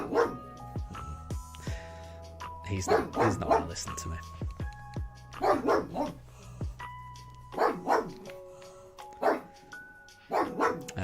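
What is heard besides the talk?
pet dog barking at neighbours' dogs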